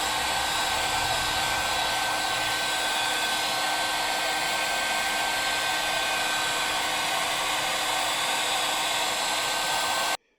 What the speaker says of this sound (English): I hope I've heated this thing enough with the hot air blower.